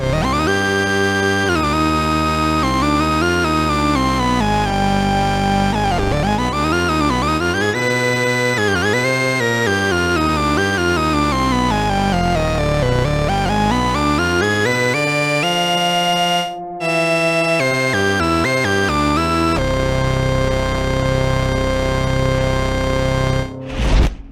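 Monster organ patch on a Behringer 2600 synthesizer, all three VCOs stacked and run through reverb: a dense, sustained buzzy organ tone gliding through sweeping pitch bends and held chords, loud and continuous with brief dropouts near the end.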